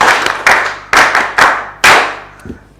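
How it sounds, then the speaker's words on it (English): Clapping rings out at an address to ATMIS public information officers, heard as a few loud, close bursts of hands that start abruptly and die away quickly, with no voices over them. "Can we clap first for external consultant?"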